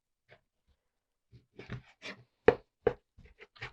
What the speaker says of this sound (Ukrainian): звук ножа, який щось ріже на дошці, пробуджує всіх, правда?